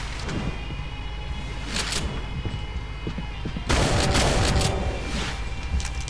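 Repeated gunfire and booming blasts from the shooter game Brutal Doom, played in GZDoom on FreeDoom map E3M4, come in bursts with a loud cluster of shots near the middle, over a constant game din.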